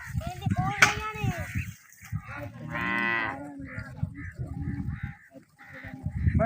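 Buffaloes on the Ravi riverbank low loudly nearby, several drawn-out moos in sequence with a sharp honking call early on, over faint outdoor background and a little voice.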